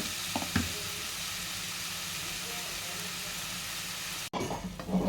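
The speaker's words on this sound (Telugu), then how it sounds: "ఇప్పుడు ఒకసారి ఇలా కలిపేసి మూత పెట్టేద్దాం." A tomato mixture with turmeric sizzles steadily in a cooking pan as it is stirred, with a brief clatter near the end.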